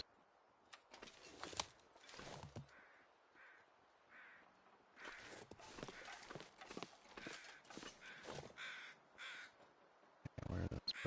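Crows caw repeatedly in The Long Dark video game on PS5, harsh calls in loose bursts over wind-like game ambience with footstep clatter.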